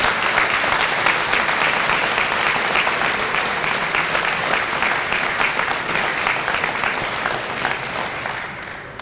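Audience at a police district award ceremony giving honorees a big round of applause, dense sustained clapping from a large crowd, loud and steady, tapering slightly toward the end, with no talk.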